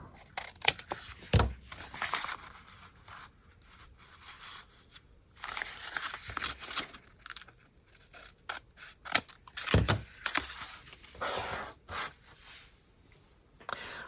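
Scissors trimming paper for an altered envelope craft, with close, quiet snips and rubbing paper rustles in irregular bursts, a couple of sharper cuts standing out.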